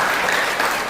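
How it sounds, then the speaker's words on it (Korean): A church congregation claps together in praise during a Korean Lent worship service, a dense, steady wash of applause that fills the whole moment at close range. "우리 하나님 아버지께 한 번 더 영광의 박수를 드립니다."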